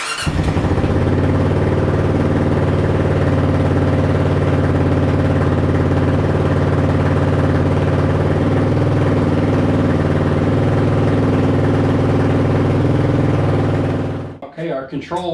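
A motorcycle engine cold-started on regular gasoline settles into a loud, steady close-up idle that runs evenly for about fourteen seconds before cutting out.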